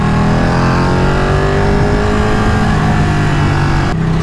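A Ducati 959 Panigale Corse motorcycle with a clear clutch cover rides through Los Angeles traffic, its engine a loud, close, continuous drone with a shifting pitch and a steady rumble and no voices.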